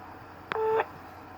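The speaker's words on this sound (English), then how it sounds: "Please leave a message after the tone." A voicemail beep sounds once after a message prompt, a short, faint electronic tone with a click at its start, alone against quiet line hiss.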